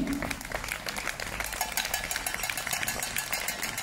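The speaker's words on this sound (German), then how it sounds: "Einen großen Applaus für Dr. Lang." Crowd applause at an outdoor demonstration in Erding greeting speaker Dr. Klaus Lang as he takes the stage, dense steady clapping from many hands lasting throughout.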